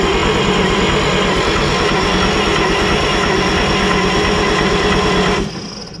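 Engine of an abandoned WW2 army truck being cranked over, a loud steady mechanical churning that runs continuously and then cuts off abruptly near the end.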